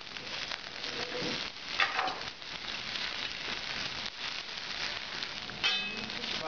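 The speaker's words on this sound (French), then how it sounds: "Pour flamber les steaks, on arrose bien la viande" Steaks flambéing in a pan, a steady crackling sizzle with soft whooshes of flame and an occasional light metallic clink, close and continuous, no voices.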